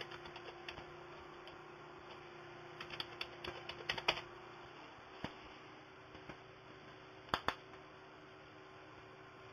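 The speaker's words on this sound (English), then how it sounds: "Type in your username, password." A computer keyboard attached to a PS3 running Xubuntu is used to type a login name and password; sparse, quiet key clicks come in small bursts over a faint electrical hum.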